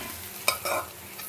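A spoon scrapes and stirs through jackfruit-peel and moong dal curry in a hot pan, giving one sharp clink followed by a short scraping swish over a faint, steady sizzle.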